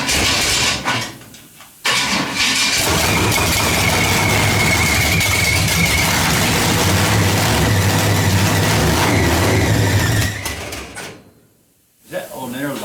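The engine of the Brooklyn Dodger truck, which has a seized alternator, cranks and fires up, then runs with a loud, steady rumble for about ten seconds before cutting out, with a brief restart at the end.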